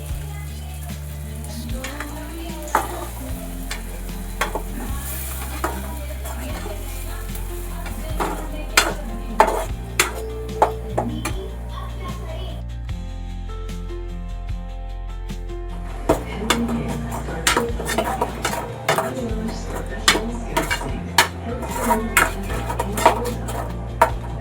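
A Konkani-style spice paste sizzles and is stirred in a hot frying pan for a home-made kupya tikhla, with repeated spoon scrapes and metal clinks against the pan over steady background music.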